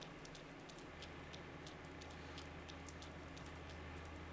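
Steady rain patters in the Persona 4 Golden game, a soft continuous hiss of drops on surfaces with a low hum beneath, faint and even throughout with no voices.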